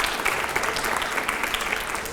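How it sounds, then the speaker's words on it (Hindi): Audience applause at a Hindi-language event with a BJP MP, a steady dense clapping from a crowd that fills the whole moment without a break. "तालियां जरा अगले सवाल से पहले"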